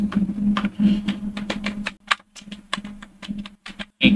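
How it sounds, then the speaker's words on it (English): A name is typed on a computer keyboard during setup of a Raspberry Pi face-recognition attendance system: a quick, uneven run of light key clicks over a steady low electrical hum, close by and with no talking. "Typing my name."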